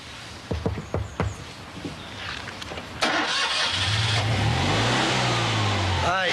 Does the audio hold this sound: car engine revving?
yes